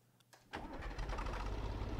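A tractor's heavy engine cranks and turns over in Landwirtschafts-Simulator 17, then settles into a loud, rumbling idle close by.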